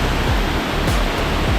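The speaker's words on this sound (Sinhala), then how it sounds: "ගලා හැලෙන වතුර පාර මාර ඉක්මනට" A tall waterfall at Munnasgiri, swollen by rain upstream, pours fast and hard, giving a steady, loud, full roar of rushing, crashing water with no pauses or voices.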